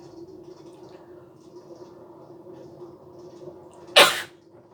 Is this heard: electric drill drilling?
no